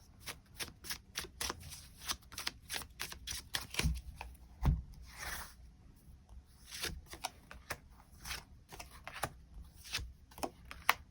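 Tarot cards are shuffled and drawn in a long run of quick, soft riffling flicks and slaps, close and steady with no voices.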